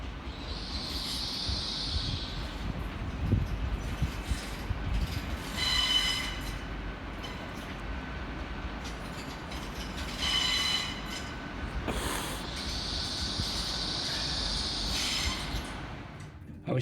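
A passenger train rolls toward London Euston past the former Primrose Hill station site, a steady rumble of wheels on track with recurring metallic squeals and clanks, heard from aboard throughout.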